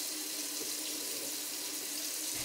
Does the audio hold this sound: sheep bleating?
no